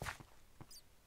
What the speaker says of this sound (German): Schritte habe ich gerade gehört.